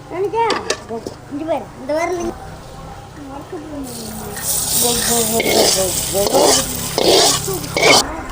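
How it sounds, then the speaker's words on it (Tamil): Curry leaves frying in oil for kara chutney, a crackling sizzle that flares up in the second half after a stretch of speech and continues under occasional talk. "கருவேப்பிலை போடுறேன். நல்லா பொரியுது."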